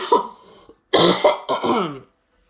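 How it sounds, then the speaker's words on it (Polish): A woman coughing and clearing her throat, a short burst followed by two harsher coughs close to the microphone, then silence. "Ten kaszel nie chce minąć."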